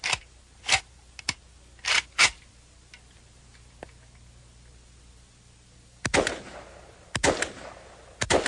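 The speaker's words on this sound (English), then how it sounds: "One pull of the trigger, you get one round. You get another round, you have to pull the trigger again." A semi-automatic rifle fires single shots, each from a separate trigger pull, loud and near. Four sharp reports come at uneven intervals, then a quiet gap, then another run of shots.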